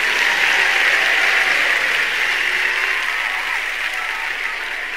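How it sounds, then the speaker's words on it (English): Audience applause fills the hall before the world premiere of a stage musical, a dense, steady wash of clapping that holds loud for the whole stretch and tapers only slightly toward the end. "Let's give them all a round of applause."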